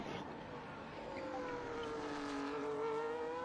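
A Ferrari race car in a racing video game at the Spain circuit, its engine note climbing and holding through the corners as it laps, loud and steady throughout.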